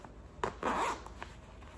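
A small zipper on the pocket of a pair of athletic shorts is pulled open. It makes a short, close, quiet rasp, alone with no talk over it.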